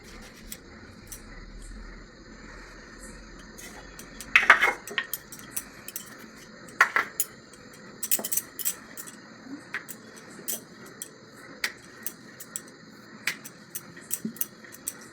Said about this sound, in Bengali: এবার লুচিটা আমি বেলবো।